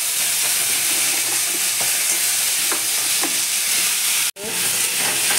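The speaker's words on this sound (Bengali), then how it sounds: "সেই কড়াতেই কাঁকড়াগুলো ভেজে নেবো" Crabs fry in oil in a wok-style pan, giving a steady loud sizzle with scattered stirring scrapes, broken by a brief cut near the end before the hiss resumes.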